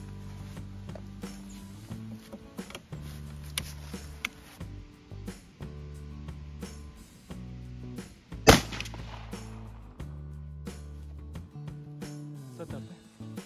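A 12-gauge shotgun loaded with tungsten shot fires one loud, sharp report about two-thirds of the way through, set amid outdoor talk and low background rumble.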